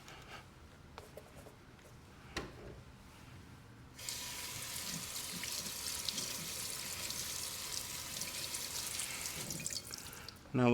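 Kitchen tap turned on after a few quiet handling clunks, then water runs steadily into the sink while potatoes are rinsed for an Instant Pot beef stew, close and constant before cutting off with a clatter.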